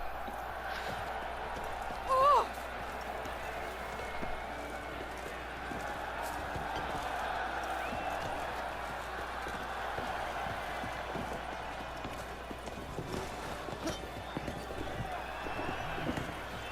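Steady horse hoofbeats clip-clop beneath ambient sounds of the video game Witcher 3, a brief honking call rising once early on, with a voice speaking intermittently.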